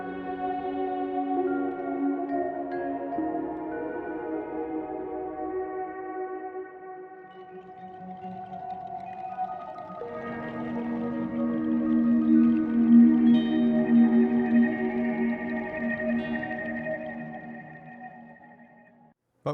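A free Kontakt instrument built from NAMM trade show ambience plays sustained, layered tones with a whale-like, echoing character, swelling and shifting pitch over about twenty seconds before fading out.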